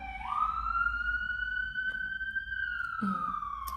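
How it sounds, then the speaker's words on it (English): A siren wails steadily with a smooth rising then slowly falling tone, fairly close, over a low rumble of background traffic. "gotta let that siren go by"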